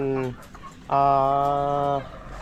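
Hens clucking near the nest as they get ready to lay eggs: a short cluck, then a longer drawn-out cackle, loud and close.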